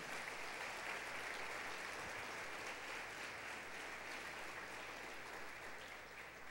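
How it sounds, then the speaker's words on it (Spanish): A church congregation applauding, a dense steady patter of many hands that carries on evenly for several seconds at moderate distance, with no speech over it. "Denle un aplauso a Dios."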